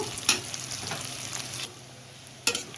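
Steady crackling sizzle of onion and garlic frying in hot oil, interrupted by a couple of sharp clinks of a utensil against the pan.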